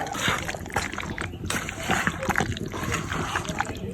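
Meat and ingredients are tipped into a cooking pot with a continuous wet splattering and sloshing that runs throughout, loud and close.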